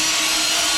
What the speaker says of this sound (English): just touch the tile very lightly with your grinder